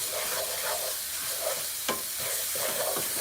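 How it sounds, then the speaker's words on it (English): Grated ginger is stirred quickly into a hot, sizzling coconut candy mixture, with steady scraping strokes over a constant frying hiss and no talking. "And then we're gonna get to stirring as quick as possible."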